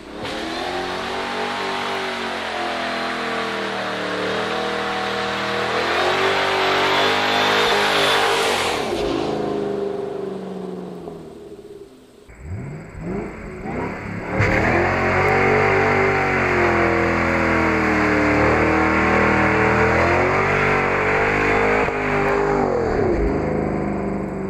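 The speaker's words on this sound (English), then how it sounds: "If you have a 550 horsepower vehicle equipped with a supercharger, it might sound something like this." A 550-horsepower supercharged car engine revs hard and loud, climbing and dropping repeatedly, with a brief lull before roaring back up to a sustained high rev.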